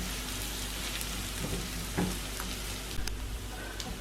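Ginger and garlic frying in a pan, a steady soft sizzle with faint crackles and an occasional stirring clink, heard alone without talk.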